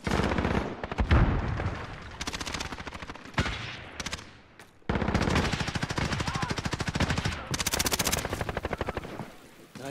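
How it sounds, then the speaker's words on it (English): Rapid automatic gunfire from the Call of Duty Modern Warfare game on PS4, long rattling bursts of close, loud shots broken by short pauses, with a helicopter-like drone beneath. "I'm taking fire! Taking fire!"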